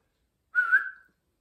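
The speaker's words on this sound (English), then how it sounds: "Can I whistle?" A person whistles one short, quiet rising note, alone in an otherwise silent moment.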